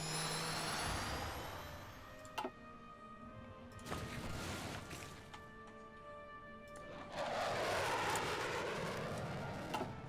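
Aircraft engines in the strategy game Hearts of Iron IV whine and roar like jets, rising and fading in several swells with a couple of brief sharp knocks, moderately quiet and without speech.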